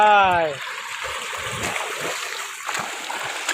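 A student swims a 50-metre lap in a pool, with continuous splashing and churning water close by after a brief voice at the start.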